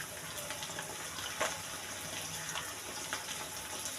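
Plain water is poured into a cooking pot already holding dark soy sauce and salt, making a steady, soft splashing hiss that runs throughout with no talking.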